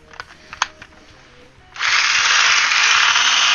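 Electric hand whisk with a separated, loosely locked beater part, switching on partway with a steady loud whirring buzz after a few faint knocks and clicks.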